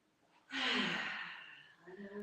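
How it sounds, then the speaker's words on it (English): A slow, deep breath drawn during a gentle tai chi neck-circle exercise, a soft airy inhale swelling then fading over about two seconds, close and quiet with no talking. "And take a deep breath."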